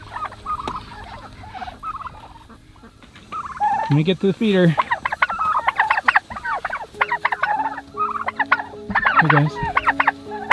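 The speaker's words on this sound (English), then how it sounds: "So this area are the broad-breasted white turkeys and our hook-billed ducks that we've got in here together" Broad-breasted white turkeys gobble on a farm pen shared with hook-billed ducks, loud rapid gobbling bursts coming close and repeatedly, with someone briefly speaking among them.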